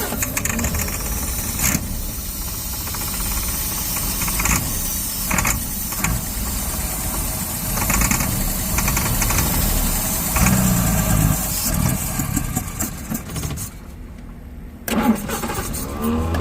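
A 1960 Jaguar S-Type with a right-hand-drive 3.8-litre engine, abandoned and unstarted for eight years, cranks and catches, then runs roughly with a steady mid-pitched engine note. Mechanical clatter sits close by, and the engine dips briefly near the end.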